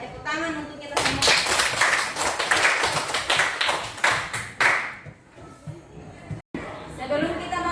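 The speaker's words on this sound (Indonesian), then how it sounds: "Tepuk tangan untuk kita semua." Applause from a school class during a lesson on organic and inorganic waste: a burst of many hands clapping for about four seconds, fairly close and lively, with voices before and after it.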